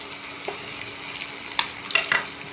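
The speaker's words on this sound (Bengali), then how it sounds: "পেঁয়াজ কুচি দিলাম, একটু লাল লাল হোক।" Chopped onion fries in a pan, a soft, steady sizzle broken by a few sharp clicks and scrapes of stirring near the end, with no talk.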